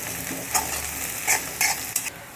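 Crushed ginger and garlic fry over high heat in a kadhai, a steady close sizzle with several louder bursts as a spoon stirs and scrapes through the pan.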